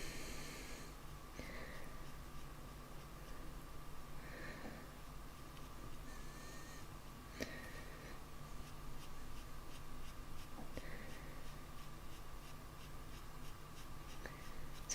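Coloured pencil scratching across textured Pastelmat paper while drawing white whiskers, a close, quiet, continuous scraping of short strokes with occasional louder taps and brief breaths.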